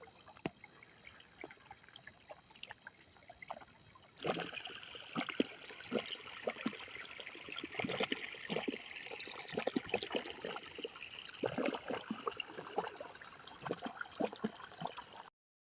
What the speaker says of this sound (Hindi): देख पारे केमती पानी आसुची